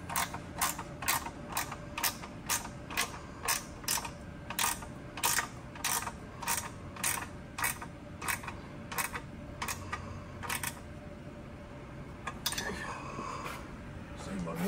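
A half-inch wrench ratchets as it torques a fender bolt on a Harley-Davidson Low Rider ST motorcycle, a steady series of sharp metallic clicks in even rhythm, close and fairly quiet, with a few looser clinks at the end.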